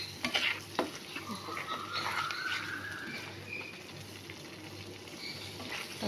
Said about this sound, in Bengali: আমি টক দইয়ের পেস্টটা দিয়ে দিলাম। আর গ্যাসটা একটু কমিয়ে রাখবো, যাতে দইটা ফেটে না যায়।